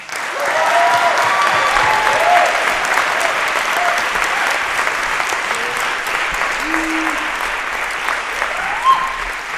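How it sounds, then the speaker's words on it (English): Sustained applause from an audience at a podcast taping event about dismantling the prison-industrial complex, a dense, steady wash of clapping lasting throughout, with some voices and whoops mixed in. "Let's give them all a round of applause."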